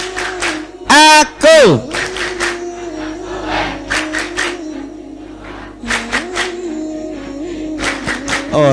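An audience at an Islamic religious gathering doing the 'Tepuk anak soleh' clapping chant, with bursts of rhythmic group claps alternating with chanted voices and a loud shout near the start.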